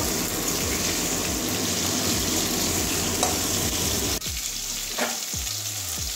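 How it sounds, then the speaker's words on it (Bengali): Pointed gourd (potol) frying in oil, a steady loud sizzle with a few scraping stirs of a spatula toward the end, no voices. "পটলটা একটু লাল লাল করে ভেজে নেবো, কাঁচা গন্ধ যাওয়ার পর্যন্ত।"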